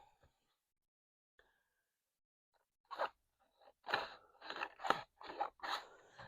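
Scissors snipping through paper while trimming the cover of a 9.5 x 7.5 inch handmade mini album: silence at first, then a run of close, crisp cuts in quick irregular bursts.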